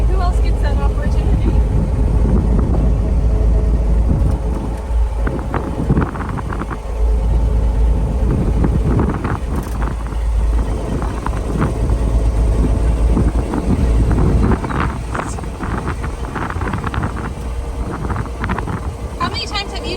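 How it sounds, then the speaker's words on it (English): Riding inside a 1923 Haynes car, with a steady low engine rumble and road and wind noise filling the cabin throughout, while people talk over it. "now you can say you've ridden in a 1923 Haynes"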